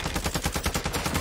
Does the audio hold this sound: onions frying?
no